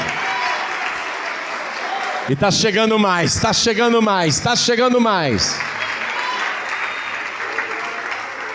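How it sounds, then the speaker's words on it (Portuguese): A church congregation claps steadily, a broad continuous patter that runs the whole time beneath a preacher's loud, sung-out call in the middle. "Vamos aplaudir, vamos aplaudir."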